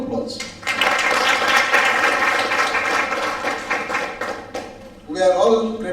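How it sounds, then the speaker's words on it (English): An audience at an HR round table event in Pune breaks into sustained applause for several seconds, dense and even, then it fades and a voice begins speaking. "again big round of applause"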